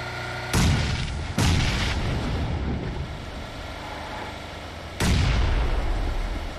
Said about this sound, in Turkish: Bomba attım bir tane.